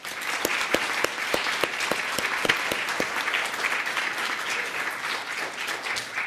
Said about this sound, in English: I'd also like you to applaud again for our 2026 Kid Governor and Cabinet